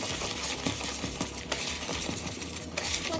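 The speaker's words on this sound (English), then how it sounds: "Just mix all those dry ingredients together" Dry biscotti ingredients are stirred together in a bowl, producing quick scraping and clinking strokes of a utensil against the bowl, close and fairly quiet, with no voices.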